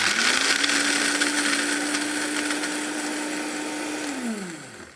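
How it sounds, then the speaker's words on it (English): A Vitamix blender grinds almonds into flour with a loud, continuous high-speed whir. The motor pitch holds steady, then winds down near the end as the machine stops. "See how fast the machine ground those almonds to a dust or an almond flour."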